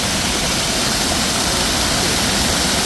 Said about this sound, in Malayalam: ഇതാണ് നമ്മുടെ റിവർ വാക്കിൽ ഹോളിൻസ് മിൽ പാർക്കിലുള്ള വെള്ളച്ചാട്ടം